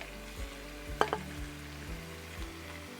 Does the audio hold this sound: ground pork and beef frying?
yes